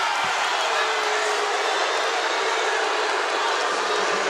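Dense roar of a basketball arena crowd reacting to a foul call against South Dakota during a Sweet 16 NCAA women's game with Michigan, steady and loud throughout with no distinct claps.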